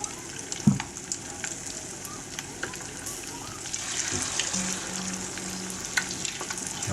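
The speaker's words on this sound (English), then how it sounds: "these are just going to fry for a couple of minutes in there" Battered cauliflower pieces fry in hot oil with a steady bubbling sizzle and a few scattered pops, close by, rising slightly in the second half, with a brief clatter near the start.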